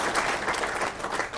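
Brief burst of indoor clapping from a crowd at a Norden Club gathering, a steady, moderately loud patter of many hands.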